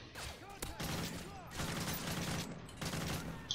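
Heavy explosions and gunfire in Call of Duty Modern Warfare 3 Survival co-op, loud bursts of blasts and rapid shots crowding together in dense, overlapping volleys.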